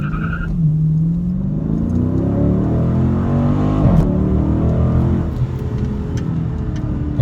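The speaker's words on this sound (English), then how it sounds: "0 to 60 pull, 2019 Scat Pack Challenger." 2019 Dodge Challenger Scat Pack accelerating hard from 0 to 60 on a street, loud V8 roar rising through gears with a shift midway and tire spin, close and sustained.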